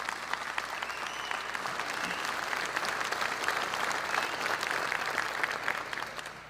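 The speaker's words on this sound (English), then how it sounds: "give them a round of applause as well" Sustained audience applause at a fire division graduation ceremony, dense and even throughout, a large crowd clapping at moderate distance with a faint low hum beneath.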